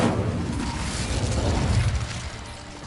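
Incendio fire spell cast in the video game Hogwarts Legacy, a loud whooshing burst of flame with a low roaring body that swells and then fades toward the end, without talk.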